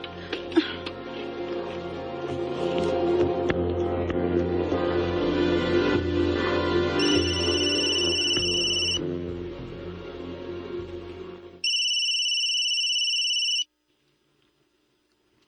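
A cellphone ringtone rings in two bursts of steady repeating electronic tones, loud and close, first over a busy indoor background of voices and household noise, then alone in near silence before cutting off.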